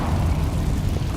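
Low, dense rumble of a Confringo blasting spell explosion in the Hogwarts Legacy video game, a muffled sustained boom at moderate volume with no talking.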